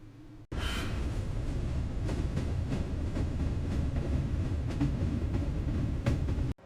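A train in late-1870s Japan rumbles steadily after a sudden start, a continuous loud roll with faint rhythmic clatter that runs unbroken to the end before cutting off.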